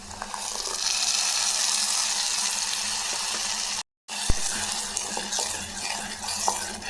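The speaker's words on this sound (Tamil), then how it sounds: "நல்லா பச்சை வாசனை போகிறதையும் நல்லா வதக்கலாம்" Ground tomato paste sautéing in a pan, a loud, steady sizzle with stirring scrapes throughout, briefly cutting out before the frying continues.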